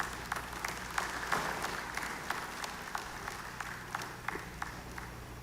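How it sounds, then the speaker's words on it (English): Steady applause from a crowd honouring Services Medal of Honor awardees at a National Day parade in Dominica, with dense clapping holding for several seconds and a few sharper claps standing out. "a final round of applause for the awardees who have received the Services Medal of Honor for 2022"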